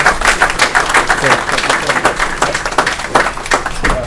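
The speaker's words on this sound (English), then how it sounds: "Give him a round of applause" Audience applause at a NoMi council meeting, steady and fairly loud clapping from a roomful of people, close and continuous throughout with a faint murmur of voices underneath.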